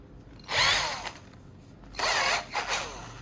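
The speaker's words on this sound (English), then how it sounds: "I'll carefully grind the battery core to extract the fine black carbon powder inside." A power tool grinds a battery's carbon core down to fine black powder, two separate bursts of high, whirring abrasion with a short quiet pause between them.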